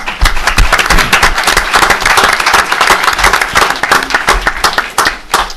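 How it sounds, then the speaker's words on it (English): An audience at a meeting gives a loud, sustained round of applause for the cameraman, dense overlapping claps from many people filling the room without voices. "So if you all would thank him with a round of applause."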